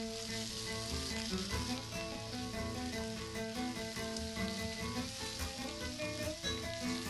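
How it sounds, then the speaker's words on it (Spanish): Osso buco pieces being stirred as they fry on a disco griddle, with a steady, dense, loud sizzle running throughout and occasional faint scrapes, close and with no talking. "Vamos moviendo para que no se queme."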